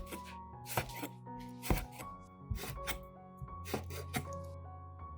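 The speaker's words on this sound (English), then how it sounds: "I cut the lemon peels into thin strips like this." A knife slices lemon peels into thin strips on a cutting board, giving a quick series of sharp, close chopping taps at an uneven rhythm with no talking.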